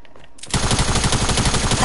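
SMG gunfire in a shooter video game bursts in after a quiet start as a loud, rapid, sustained stream of shots at a steady fast rhythm, close and alone.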